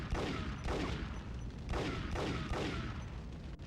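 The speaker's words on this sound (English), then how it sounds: "Fired on one of the propane tanks and set it off." Gunfire in the Max Payne video game rings out in a rapid series of loud, harsh bursts aimed at a propane tank, each blast followed by a brief reverberant tail.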